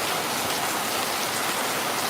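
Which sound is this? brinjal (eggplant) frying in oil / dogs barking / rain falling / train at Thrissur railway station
rain falling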